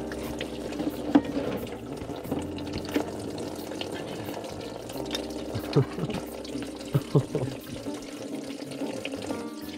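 Fluid drains from the engine of a 2002 Subaru WRX with an EJ20 after its intake is pulled off, making a continuous trickling, splashing flow with a few sharper splats. People talk in the background.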